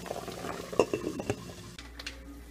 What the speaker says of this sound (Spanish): Y acá ya se está cocinando el espagueti